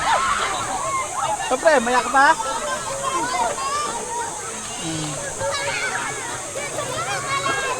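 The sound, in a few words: children splashing while swimming in cold water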